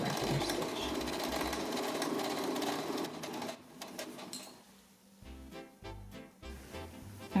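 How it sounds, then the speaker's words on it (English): A sewing machine runs in fast buzzing bursts while stitching a seam with an edge joining foot on a gathered child's skirt, loud and close, stopping and restarting several times with no talk. "finish the seam with an edge stitch using an edge joining foot and also a regular stitch."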